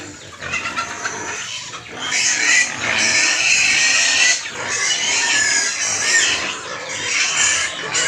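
Native pigs squeal and grunt loudly and continuously, a close, noisy chorus of high-pitched squeals with brief pauses.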